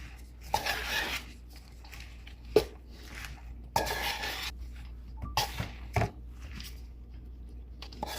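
Fresh spinach being stirred into a chicken casserole, with a series of scraping clanks and bright clinks of a utensil against the dish at irregular intervals, near and fairly loud, no talk.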